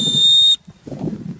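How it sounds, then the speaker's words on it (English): A single loud, piercing 120-decibel emergency whistle blast from a survival bivy sack held steady for about half a second, then cut off abruptly, leaving low rumbling handling noise. "It has a really super loud 120 decibel whistle on it."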